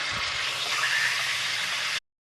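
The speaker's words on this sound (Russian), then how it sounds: "Обжариваем мясо на среднем огне до румяности." Steady, dense sizzling hiss of meat frying over medium heat in a 5-litre pot, loud and continuous for about two seconds, then cutting off abruptly to silence.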